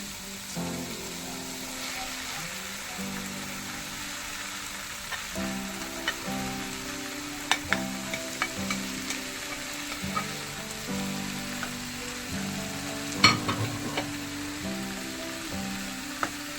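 Boiled potato mixed into frying minced meat in a pan, with a steady sizzle under repeated scraping stirs and occasional sharper clicks of the spoon, close and without talk.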